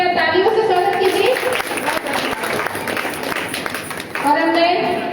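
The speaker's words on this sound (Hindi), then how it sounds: "तालियों से स्वागत कीजिए।" Audience applause welcoming a poet at a Holi-season poetry gathering in Jehanabad, Bihar: dense, steady clapping fills the hall for several seconds, with a voice speaking over it at the start and again near the end.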